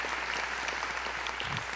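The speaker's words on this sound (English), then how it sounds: "Another big round of applause for them." An audience at an awards ceremony applauds the event's presenting sponsors, a short, steady burst of clapping that stays fairly even and moderately distant.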